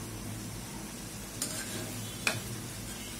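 Green chillies frying in a pan of jute greens in a home kitchen, a steady low sizzle with quiet stirring and two brief clinks of a utensil against the pan, no talking.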